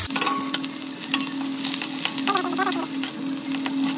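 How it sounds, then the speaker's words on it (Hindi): Cumin seeds, bay leaf and onion frying together in a generous amount of hot oil for an egg curry, giving a steady, close, loud sizzle with a few stirring scrapes and no talk. "तेल एकदम ज्यादा आ गए संगवारी हो, तो मैं जीरा, तेज पत्ता और प्याज तीनों ला डाला था"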